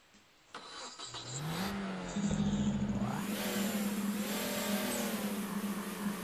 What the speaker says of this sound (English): it's got the blow-off valve, so I know it's legit